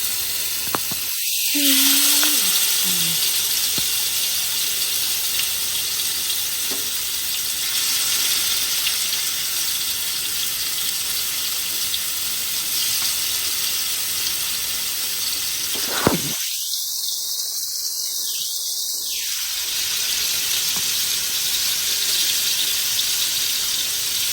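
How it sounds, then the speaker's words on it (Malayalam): Fish caught from a flooded paddy field frying in a pan, a steady, close hiss and sizzle running throughout at even loudness, with brief bits of speech and a couple of quieter dips. "അടിപൊളിയായിട്ട് ഫ്രൈ ചെയ്തെടുക്കാം"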